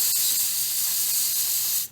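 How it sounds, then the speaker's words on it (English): A can of vapocoolant cold spray releases one loud, close, continuous hiss lasting nearly two seconds before cutting off abruptly. "You could take the cold spray"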